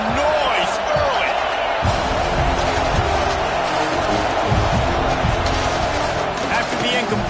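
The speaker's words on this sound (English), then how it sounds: "This crowd bringing the energy and noise early." Stadium crowd noise roars steadily in the NCAA 26 college football video game, a loud continuous wash under commentators talking, with occasional thumps from the field.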